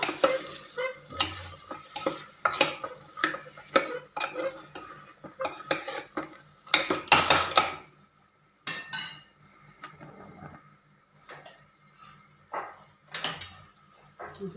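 Chickpeas being stirred in a metal pot while making chole, with a spoon clinking and scraping against the sides in irregular bursts, close up, then quieter clinks and pauses.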